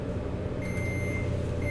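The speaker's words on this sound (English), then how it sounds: "That's the microwave." A microwave oven gives short high beeps, one brief tone and then another after a pause, faint over a steady low hum in a home.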